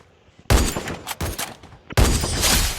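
Loud close gunfire in a shooting video game, two heavy volleys of rapid shots with a brief gap between them, each burst crackling and sustained.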